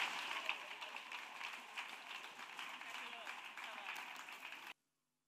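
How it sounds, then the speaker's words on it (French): A church congregation claps steadily together in a broad, sustained wash of applause that fills the room at an even level for several seconds, then cuts off abruptly. "Acclamation à Jésus-Christ. Clap offering to Jesus"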